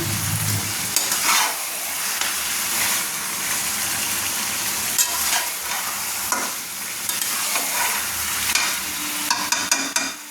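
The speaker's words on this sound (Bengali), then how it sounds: "দেখুন মটনটা আমি কষাচ্ছি, তো মটনটাকে আমি সুন্দর করে নেড়ে নিচ্ছি।" Mutton being stirred and fried in a pan for a Bengali kosha dish, a steady loud sizzle with repeated scraping stir strokes throughout, no talking.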